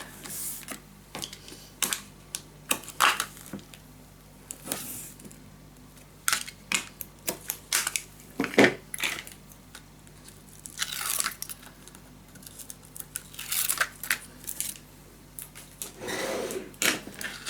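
Tape is pulled and pressed onto a scrapbook suitcase mini album, heard as scattered sharp crinkles, taps and short rips, close by, irregular, with quiet gaps between them.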